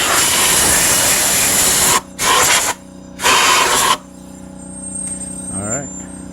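Compressed air blasting through the air filter of a Kohler engine on an Exmark Navigator mower, with the pre-filter left on; a loud hiss for about two seconds, then two shorter bursts, with someone talking afterward.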